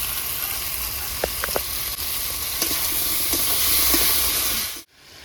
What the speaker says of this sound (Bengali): বন্ধুরা 4-5 মিনিট কচুগুলো কষিয়ে নেবো ভালো করে জিরির সঙ্গে